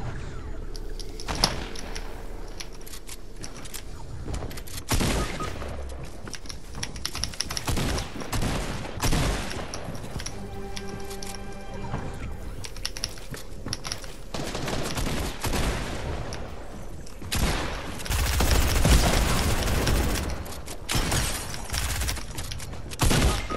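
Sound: SMG gunfire in video game Fortnite

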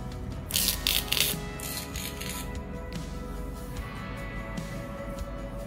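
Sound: tearing strips of adhesive tape

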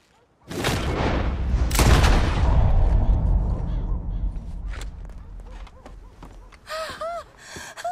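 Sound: gunshots shooting a rope, from the video game Red Dead Redemption 2

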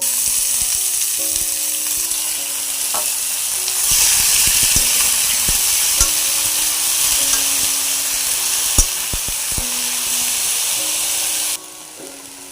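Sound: fenugreek leaves frying in a pan

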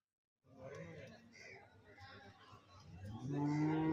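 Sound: cattle mooing at livestock market

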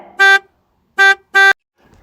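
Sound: truck horn honking

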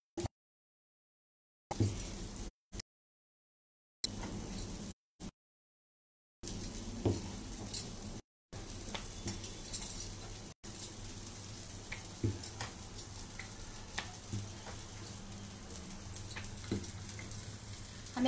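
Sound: kebab frying on a pan

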